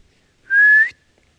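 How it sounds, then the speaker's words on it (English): One short whistle in the woods of Southern Illinois, a clear single note that rises slightly in pitch, sounds alone in otherwise near-silent surroundings. "Well, the whistling stopped."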